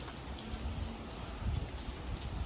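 Steady rain patters on a surface on a cold, wet morning, a dense, even hiss of drops with no talk, holding at a moderate level throughout.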